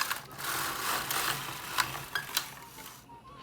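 A Singer knitting machine carriage sweeps across a row of alpaca wool jacquard knitting, giving a steady mechanical whirring rattle with a few sharp clicks near the end, close and moderately loud, no talk.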